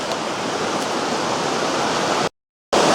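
Cold water of East Fork Dickey Creek in Montana wilderness rushes steadily, making a loud, even, broadband roar close by that cuts out briefly near the end before resuming.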